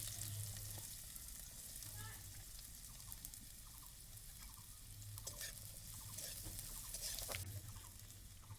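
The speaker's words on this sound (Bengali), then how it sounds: "অল্প একটু সর্ষের তেল এখানে আমি নিয়েছি পেঁয়াজ কুচো কাঁচা লঙ্কা কুচো আর আদা বাটা আমি তেলটা হয়ে গেছে ওর মধ্যে পেঁয়াজটা দিয়ে দিলাম" Chopped onion frying in hot mustard oil in a pan, giving a steady, close, crackling sizzle throughout with small spatters and no talking.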